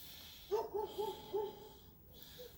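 Neighborhood dogs bark four times in an even series, distant and faint, against quiet outdoor background noise.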